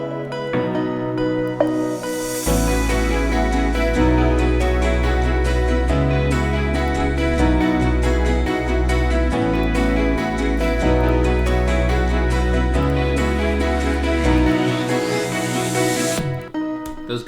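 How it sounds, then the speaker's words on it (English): Layered melodies and guitars play back from a music production mix. The track is loud and full, with a deep bass that enters after a quiet intro and fades out near the end. "Those guitars are definitely not sitting right"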